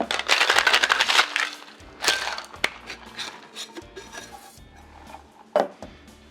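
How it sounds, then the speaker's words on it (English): Ice rattles hard inside a cocktail shaker for a Between the Sheets cocktail, with dense clattering bursts at first, then a few scattered knocks and clinks, plus one sharp rattle near the end. "get our ice in the shaker and shake this thing up"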